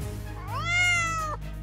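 A single drawn-out cat meow in a Roblox animation, rising then falling, clear and fairly close, over a low background hum.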